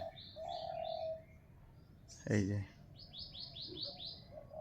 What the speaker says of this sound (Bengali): দেখুন কি সুন্দরভাবে পাখিগুলো ডাকছে